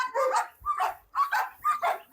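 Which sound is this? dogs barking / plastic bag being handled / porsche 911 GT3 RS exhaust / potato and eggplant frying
dogs barking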